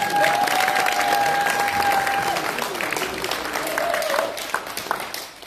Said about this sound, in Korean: 그래서 우리 큰 박수 한번 보내주세요.